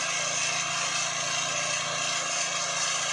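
A drilling rig bores down through rock, sending out a loud, continuous engine drone with a steady rumbling grind that holds even and unbroken at close range.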